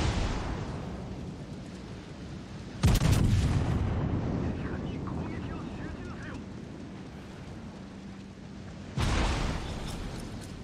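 Naval gunfire from World of Warships Legends, heavy ship guns booming in two loud broadband blasts with rumbling tails over continuous low battle noise and wind.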